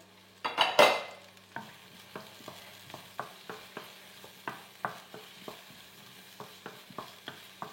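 Bell peppers added to a pan of hot olive oil, a brief loud burst as they hit the oil, then steady sizzling with a series of regular stirring scrapes and clinks at close range.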